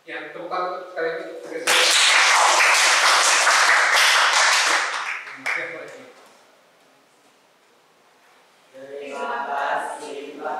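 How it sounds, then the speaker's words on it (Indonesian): A classroom audience bursts into loud, dense clapping for a few seconds after talk, fading out; speech is heard before and after the applause. "tepuk tangan untuk sekali lagi."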